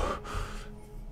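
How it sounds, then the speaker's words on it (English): Heavy breathing inside a mask from a horror movie trailer, a sharp gasping inhale and exhale close up with muffled airy texture, then fading into quiet. "I could hear breathing in a mask."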